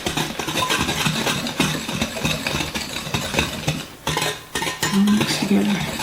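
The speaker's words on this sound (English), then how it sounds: "Get that all stirred up." Amaretto chocolate brownie batter stirred in a bowl, a spoon scraping and clinking in a continuous close rhythm over a low engine-like hum.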